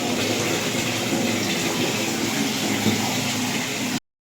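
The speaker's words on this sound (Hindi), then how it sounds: "अभी चलते हैं बाथरूम में भी पानी भर के रख देते हैं, ताकि पानी जाए तो दिक्कत ना हो।" Water runs steadily from a tap to fill containers in a bathroom for storage, a continuous loud gushing rush that holds for about four seconds, then cuts off abruptly into silence.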